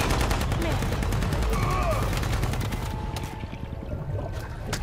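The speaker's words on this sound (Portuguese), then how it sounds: "Ih, é tiro." Bursts of rapid video game gunfire from Shadow of the Tomb Raider crackle loudly over a noisy, busy background, the shooting thinning out toward the end.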